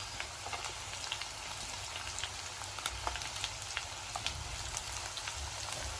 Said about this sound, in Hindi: और ये लहसुन डाल रहे हैं